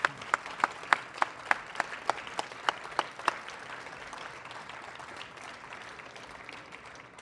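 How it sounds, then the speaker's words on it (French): An audience at the opening of a book fair applauds, with a steady wash of clapping from many hands and a few sharp, louder claps standing out near the start, heard at a moderate distance. "j'aimerais qu'on s'applaudisse parce qu'on se retrouve enfin"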